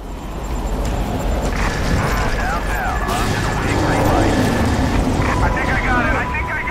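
Helicopter rotor roar from the video game Prototype, a loud, continuous churning drone mixed with chaotic battle noise and shrieks, while someone speaks Italian over it.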